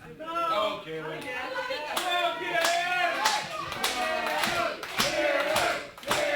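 Wrestling crowd at a live WrestleForce show in Chelsea claps and cheers for Kieron Lacey, a loud sustained roar with sharp rhythmic claps and stomps, mixed with shouting voices throughout.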